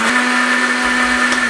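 A mixer grinder whirs loudly at close range as it grinds icing sugar, a steady high-speed motor drone with a strong constant hum and no speech.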